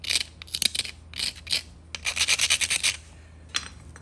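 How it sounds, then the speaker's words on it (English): Short bursts of gritty grinding against the edge of a fractured denture base, a rotary tool touching and lifting off in quick uneven strokes, with a few brief pauses between passes. "Just give it a little grind and make sure it's low enough."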